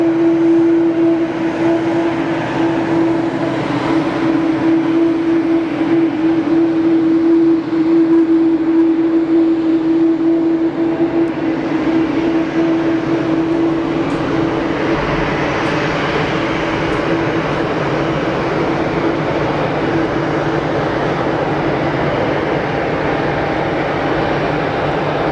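A jet airliner landing at Geneva Airport with a loud, sustained thrust-reverser roar close by, a broad rumble with a steady tonal whine that fades into lower engine noise.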